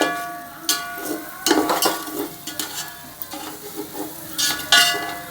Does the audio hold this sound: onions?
yes